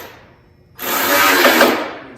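After a quiet start, a cordless power tool starts up and runs in one loud, steady burst, driving bolts into a nut plate on a Yeti Snow MX during a service.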